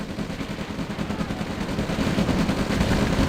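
A tank battle in the OpenRA Red Alert strategy game brings dense, continuous rattling gunfire and blasts, loud and unbroken throughout and building slightly toward the end.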